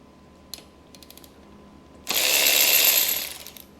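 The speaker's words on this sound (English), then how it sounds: "I will be using the Eastvolt little ratchet, power ratchet." An Eastvolt power ratchet whirs in one loud mechanical burst of about a second and a half on a Honda CM91 motorcycle, preceded by a few faint clicks in a quiet room.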